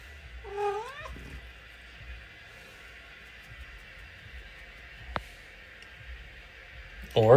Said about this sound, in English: Maybe if you meow loud enough, she'll come back.